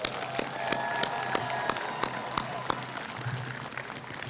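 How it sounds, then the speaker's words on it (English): Audience applause at a community MLK Day celebration and service event, with scattered sharp claps and crowd noise rising over a steady room murmur. "Let's give them all a big round of applause."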